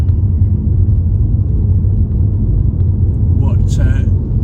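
A Jeep Renegade with its sport mode engaged drives along, its engine and road noise forming a steady, loud low rumble inside the cabin, with a brief voice and a higher sound near the end.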